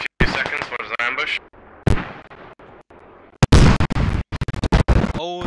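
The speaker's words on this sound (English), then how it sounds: "Oh, nice mortar." Mortar fire and other gunfire in an online multiplayer shooter match, heard as sharp bursts and booms between gaps of quieter game sound, loud and close, with some voice chatter mixed in.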